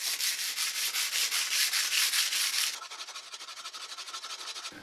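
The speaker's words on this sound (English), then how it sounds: "You quarter the sandpaper and then split it, and that way when you fold it, you don't have two abrasive faces facing each other." Folded sandpaper rubbing back and forth by hand on a metal part of a home-built English wheel, a steady rhythmic scratching of regular strokes, close and loud, easing slightly softer partway through.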